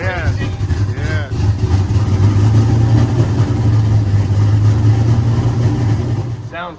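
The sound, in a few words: truck engine running with mufflers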